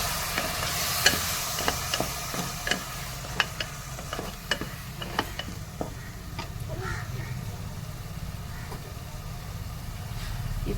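Onions frying with a paste of ground mint, coriander and green chilli for mutton biryani, a steady sizzle under a run of regular ladle scrapes and taps against the pan, close and moderately loud.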